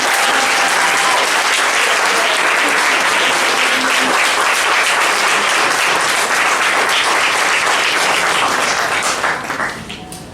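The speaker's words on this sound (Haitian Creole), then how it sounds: "Merci beaucoup, bravo, applaudissez-vous." A theatre audience at a pre-show performance bursts into loud, dense applause, a continuous roar of many hands clapping up close that holds steady before tapering off at the end.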